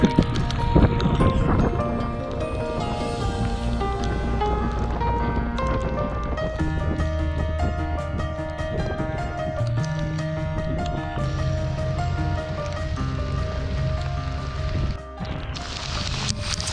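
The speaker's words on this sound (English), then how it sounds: "Freaking hailstorm right as I'm trying to get into my berth." Hail pouring down on a boat in a marina during a downpour, a dense continuous rattle of hard hits and clatter. Music plays over the whole stretch, with a brief dip near the end.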